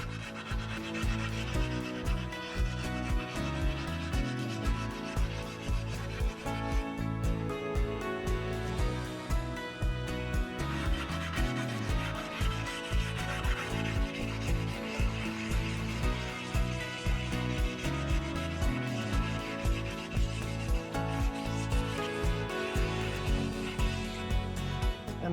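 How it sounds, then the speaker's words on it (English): A sharpening stone grinds rust off a cast iron Suburban griddle, a steady close scraping rub with a regular back-and-forth rhythm of strokes that carries on without a break. "what you're trying to do is just get rid of all the rust and get it down to the straight up cast iron"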